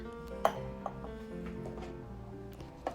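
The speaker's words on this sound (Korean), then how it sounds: "전자레인지 소리 들리시죠?" A microwave oven steaming potatoes in a microwave steamer hums steadily with faint tonal drones throughout, broken by a few light clicks and taps.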